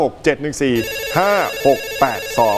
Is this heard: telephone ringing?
yes